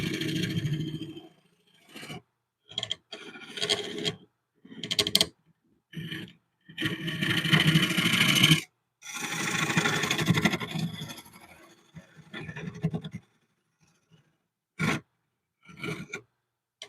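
A gouge cuts a wooden bowl spinning on a lathe, making loud, close scraping and rasping bursts of varying length separated by short silences as the tool is pressed to the wood and lifted away.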